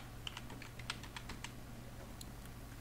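Rapid keystrokes on a computer keyboard as a command is entered, a quick burst of close, crisp clicks that thins out into a few scattered taps over steady background hiss.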